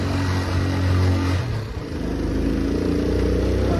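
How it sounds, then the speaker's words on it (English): Motorcycle engine pulling in first gear along a narrow two-way street, a close, steady droning hum that dips briefly and then climbs in pitch as it accelerates, with no talking. "I gotta use first gear on my motorcycle."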